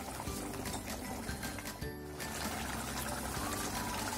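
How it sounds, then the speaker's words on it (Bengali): Chhanar dalna curry bubbling in a pan, a steady close bubbling and gurgling simmer with a brief dip partway through, no talk. "এটা আরো 5 মিনিট ফুটবে"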